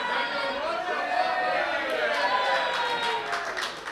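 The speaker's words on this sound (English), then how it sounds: "Why are they applauding me?" Live podcast audience at the Mana Bar clapping and chattering in a steady crowd wash, with voices and laughter mixed through the applause from start to finish.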